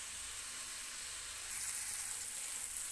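Mushroom pieces frying in a pan give a steady, close sizzle with a bright hiss that grows a little louder partway through, with no voices over it.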